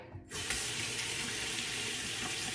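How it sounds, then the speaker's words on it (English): Tap water runs steadily into a sink as a face cleansing brush is rinsed under it, a loud, even rushing stream starting abruptly and continuing throughout. "So I rinse it off, put it back in here, and then it cleans it."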